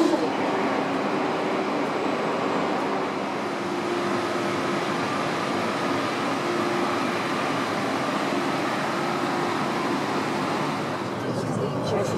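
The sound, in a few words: train ride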